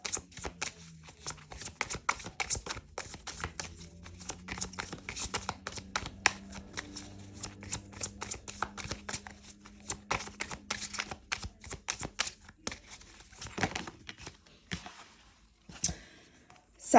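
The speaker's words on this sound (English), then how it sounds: "I'm going to pull 2 cards each" A deck of tarot cards being shuffled and drawn: quick papery flicks and crisp clicking riffles in irregular bursts, close and fairly quiet, with a faint low hum underneath and a sharper handling sound at the end.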